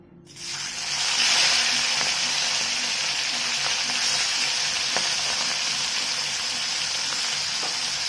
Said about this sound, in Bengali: কড়াতে আমি তেল দিয়ে চিংড়ি মাছগুলো ভেজে নেব।